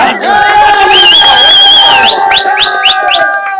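A large fan crowd cheers and applauds for a state secretary at a film celebration event, loud and sustained, with shrill whistles and rising whoops cutting through the roar.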